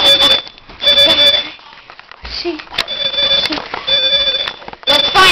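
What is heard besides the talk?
fire alarm sounding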